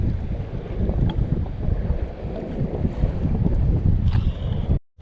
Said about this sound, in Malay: angin terlalu kuat